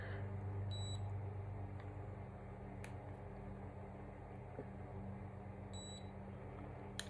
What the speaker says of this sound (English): once you hear those beeps, that means that it's over,